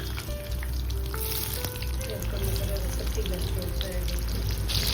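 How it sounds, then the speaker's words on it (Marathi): Soybean chunks frying in hot oil in a pan for vegetable biryani, giving a steady close sizzle with light crackle throughout. "आता आपण सोयाबीन तळून घेऊया।"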